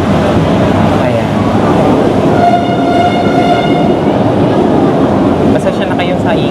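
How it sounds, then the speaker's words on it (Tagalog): An LRT train rolls past close by, a loud steady rumble with clattering wheels and a brief high tonal squeal or horn-like whine in the middle, while people talk over the noise. "Basta siya na kayo sa ingay. Kasi nga malapit lang talaga tayo sa LRT."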